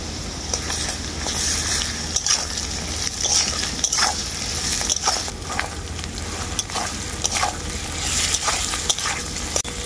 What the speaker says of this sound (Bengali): আদা রসুনটাকে আমি কিন্তু পেঁয়াজ আর আলুর সাথে খুব ভালো করেই ভেজে নেব।